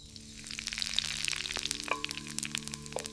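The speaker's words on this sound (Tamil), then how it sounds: "பாத்திரத்தில் எண்ணெய் ஊற்றி பட்டை, கிராம்பு, ஏலக்காய் சேர்க்கவும்." Cinnamon, cloves and cardamom crackle in hot oil in a pan over a wood fire, a steady close sizzle peppered with sharp pops and crackles throughout.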